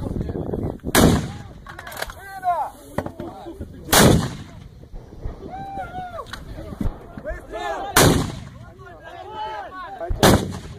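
Video game mortar shells explode, heavy booms at regular intervals, about four big blasts over the span, with scattered smaller bangs and excited Russian voices talking in between.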